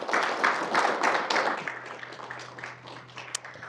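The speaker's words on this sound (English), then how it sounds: "Let's give our guests one more round of applause." Audience applause for guests at the close of a voter education and voting rights event, a steady wash of many hands clapping that fades gradually with no talk over it.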